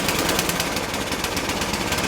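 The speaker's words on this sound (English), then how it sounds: "So it starts, choke's on, half throttle." Yard Machine 10.5 HP 28-inch snow thrower engine running with choke on at half throttle, a loud steady rapid chugging drone close by, alone without voices.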